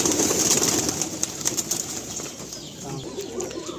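Tournament pigeons in a loft coo and shuffle close by, with soft wing flutters and scattered bird sounds over a steady background hum.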